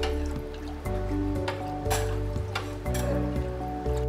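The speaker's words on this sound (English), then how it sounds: "Now after adding this, I'm going to mix it thoroughly." EcoClean 20 flocculant stirred into a container of sewage water, giving steady liquid sloshing and dripping with irregular splashy bursts throughout, close and fairly loud, with no talking.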